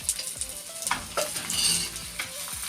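A paratha brushed with ghee cooks slowly on a low-heat pan, giving a soft continuous sizzle with a few scraping strokes, close and steady, with no voices.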